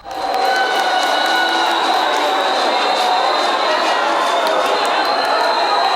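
A crowd in the public galleries of a city council chamber boos and shouts loudly and continuously, a dense roar of many voices with no single speaker standing out.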